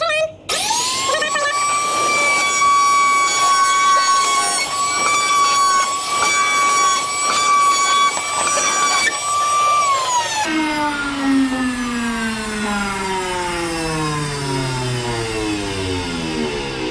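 A router bit spins at high speed while it cuts a rabbet into a drawer workpiece, a loud, steady tonal whine with harsh cutting noise, then the motor cuts off and winds down in a falling pitch.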